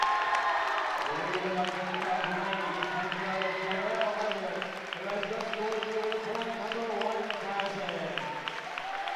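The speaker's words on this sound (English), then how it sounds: "East Pennsboro fans applauding, as well as some of the West Prairie fans." Crowd of basketball fans at a high school senior night game applauds steadily in a gym, dense clapping with cheers and voices mixed in, sustained throughout.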